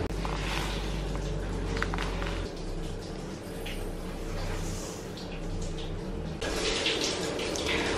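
Water poured from a container into a bowl of flaked corn meal for Brazilian couscous, a steady close splashing stream that thins partway through, then resumes more strongly toward the end.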